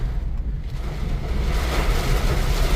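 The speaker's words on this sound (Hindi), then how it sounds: "ये तो इतनी ज़बरदस्त बारिश है" Heavy rain pours down steadily in a tiger forest in India, a dense, loud, continuous wash of noise with no voices.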